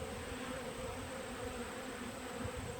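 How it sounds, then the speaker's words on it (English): Bees and yellow jackets buzzing around honey pails just brought out of a honey house, a steady soft droning hum of many insects close by, continuous and without talk. "these three I just brought out of the honey house, so they're going to be real popular with the bees and the yellow jackets"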